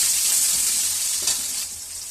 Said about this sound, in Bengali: তেজপাতাটা দিয়ে দিলাম, পেঁয়াজ কুচি দিয়ে দিলাম। পেঁয়াজটাকে একটু ভাজা ভাজা করে ভালো করে